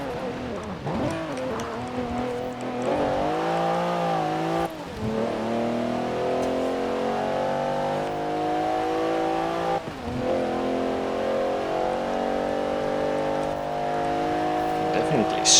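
Interior engine sound of a 2016 Alfa Romeo Giulia Quadrifoglio in Forza Horizon 4, snarling through repeated rising revs and gear shifts with brief dips between pulls, loud and continuous from inside the cabin.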